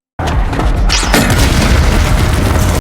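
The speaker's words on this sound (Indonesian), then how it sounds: "mereka termakan jebakan bom yang dibuat oleh Brian sebelumnya" A bomb trap explosion bursts out suddenly in a film and rumbles on with a harsh, crackling roar for a couple of seconds before cutting off.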